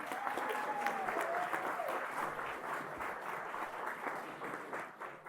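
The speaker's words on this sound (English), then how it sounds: "That's the best round of applause he's ever had." Banquet audience applauding a man introduced as brother number three, a sustained round of clapping from a room full of guests, moderately loud and even, thinning slightly toward the end, with a brief faint voice early on.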